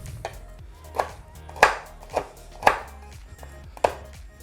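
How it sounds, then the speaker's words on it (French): A knife chopping chocolate into pieces on a cutting board, six or so distinct knocks at an uneven rhythm, close and clear with no talking. "tu vas couper du chocolat"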